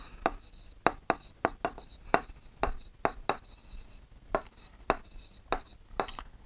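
A compass scratches an arc onto paper during a geometry exercise, with sharp irregular ticks and scrapes of the point and pencil close by, fairly quiet, with no voices.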